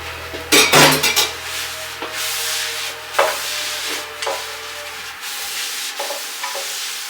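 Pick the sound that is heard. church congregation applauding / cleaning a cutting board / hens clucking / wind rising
cleaning a cutting board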